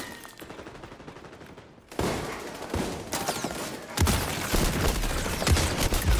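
Sniper rifle fire in a Call of Duty video game, with rapid gunfire and heavy bursts building into loud, dense, sustained volleys after a quieter start.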